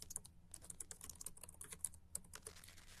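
Quick, light clicking of a computer keyboard as a search is typed, a fast irregular patter of keystrokes, close and fairly quiet with no talking.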